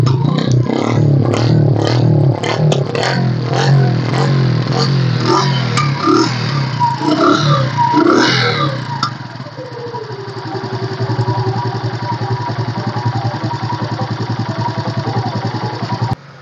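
A 2007 Yamaha Crux motorcycle starts and revs with loud, clattering engine noise up close, then settles into a steady, lower idle that runs on to the end.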